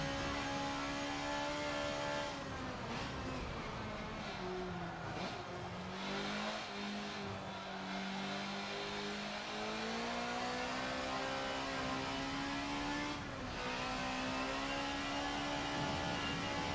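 A race car engine in Forza Motorsport 7 screams at full throttle, held high and steady, dipping briefly as it shifts and then climbing again, loud and close with no talk.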